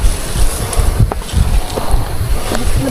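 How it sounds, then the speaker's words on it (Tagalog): Strong wind buffets the microphone in a steady roar with low gusty rumbles, outdoors near open water on Mount Talinis. "Grabe hangin oh"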